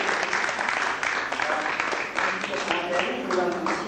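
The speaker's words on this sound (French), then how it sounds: "Et vous pouvez l'applaudir très fort." Audience applause at an international art prize ceremony in Nice, a dense, steady crowd clapping fairly loudly for several seconds, with some voices mixed into the sound.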